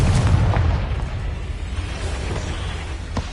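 A Confringo blasting spell in Hogwarts Legacy lands as a deep, rumbling boom that decays slowly, followed by a smaller pop near the end.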